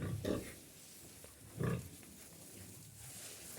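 A sow lying with her piglets in a pen gives two loud, close grunting bursts separated by quiet, rustly pauses.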